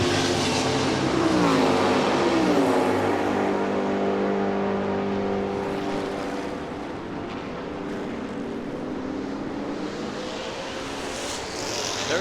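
Vintage Can-Am race cars at Long Beach roar past loudly, their engines climbing and falling in pitch as they accelerate and pass, with a dense, continuous motor drone and no talk.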